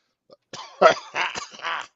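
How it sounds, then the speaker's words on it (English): A man with a lingering cough clears his throat and coughs several times in quick, rough bursts, close to the microphone, with no talking in between. "I'm almost over this cough."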